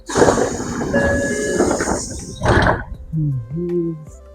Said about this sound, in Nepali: ल अब चढौँ है त ट्रेन।